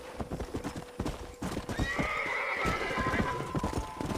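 Rhythmic hoofbeats clip-clop close by at a corral in the video game Red Dead Redemption, followed by a loud horse whinny rising over them, with a faint voice in the background.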